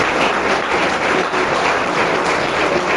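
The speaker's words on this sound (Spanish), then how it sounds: "Bríndale un fuerte aplauso al Señor." A church congregation applauds loudly and continuously, a dense, even wash of clapping from a crowd with no pause.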